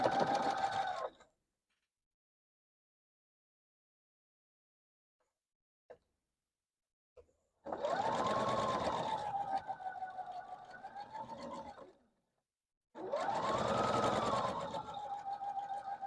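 A sewing machine stitches a quilt block in two sustained, steady whirring runs of several seconds each, close and clear, separated by a long near-silent pause with a couple of faint clicks.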